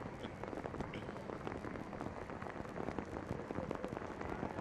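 Steady rain pours down during an NWSL soccer match between Chicago Red Stars and Racing Louisville, a dense, even patter that fills the whole stretch at moderate loudness.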